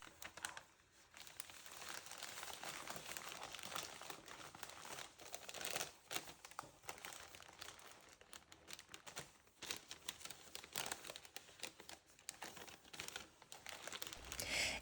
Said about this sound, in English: I fold the paper just like that